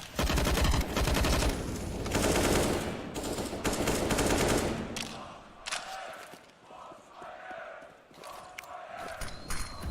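Gunfire in a CS:GO match at a pro esports final, IEM Katowice 2019, opens as dense, loud automatic bursts, then thins into scattered shots and softer game sounds with faint talk underneath.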